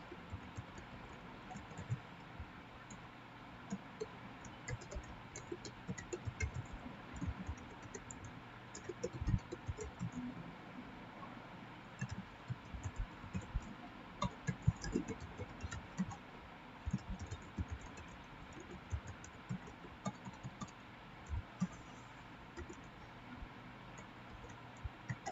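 Keys clatter on a computer keyboard as someone enters data into school management software, a long run of soft irregular taps and clicks, quiet and close with no talking.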